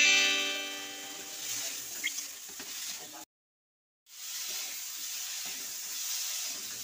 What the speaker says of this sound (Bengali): হালকা হালকা জল দিয়ে কষে নিচ্ছি